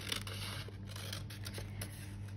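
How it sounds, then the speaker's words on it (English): Scissors cut strips from sheets of colored, decorated paper to make homemade dienes blocks; soft crisp snips run steadily under a constant low electrical hum, close and fairly quiet, with no talking. "get your scissors and you just cut them into strips."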